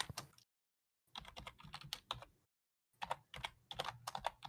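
Bursts of rapid clicking keystrokes on a computer keyboard come in three quick runs separated by short silent gaps, close and fairly quiet.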